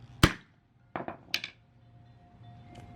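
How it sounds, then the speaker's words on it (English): Several sharp metallic hammer strikes ring out close by as a cable terminal is crimped for a campervan electrical setup, one loud hit followed by a quick cluster of three, then quiet. "you just hammer in"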